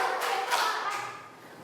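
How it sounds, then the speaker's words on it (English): A Year 1 maths class claps together, a few soft, quick claps in unison that fade toward the end. "If you can hear me, clap 4 times."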